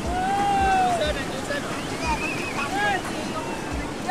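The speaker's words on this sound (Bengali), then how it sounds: "আর পুরীর ঢেউ মানে তো বিশাল।" Big ocean waves at Puri beach in India roll in a continuous roar with wind buffeting the microphone, while distant voices and calls rise faintly over the surf.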